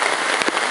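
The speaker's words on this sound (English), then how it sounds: "Well, here it is, raining, surprisingly, and just in the middle of nowhere" Rain pours onto a tarp shelter on the Appalachian Trail at Chestnut Ridge, making a dense, loud, close patter of drops on the fabric.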